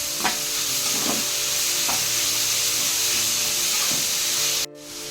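Ingredients sautéing in a hot pan with a continuous loud sizzle and hiss, a few soft stirring scrapes spaced through it, before the frying noise suddenly cuts out near the end.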